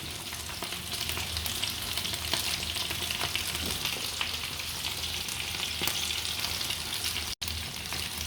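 A Jaffna fish sothi broth of salt, tamarind, green chilli, onion and turmeric cooks hard in a pot, giving a steady close bubbling hiss that continues without a break.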